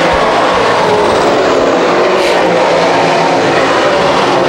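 Modified stock cars roar down the backstretch at Can-Am Speedway, a loud continuous engine drone at full throttle that stays dense and close throughout, with no voices heard.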